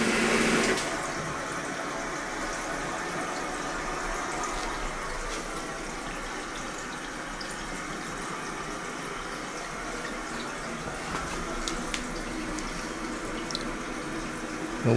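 Water rushes steadily into a Wowflo macerating pump unit installed to replace a Saniplus, a continuous hissing fill with a brief louder splash at the start and occasional faint clicks throughout.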